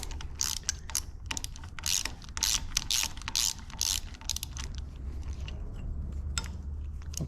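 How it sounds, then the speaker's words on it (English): A 10mm socket ratchet loosens a bolt on the clutch lever of a Suzuki LTZ400 or Kawasaki KFX ATV. Close, crisp ratcheting clicks come in quick repeated bursts, then slow to a few scattered clicks. "you can get the 10mm socket down on there now, and we can take this one off"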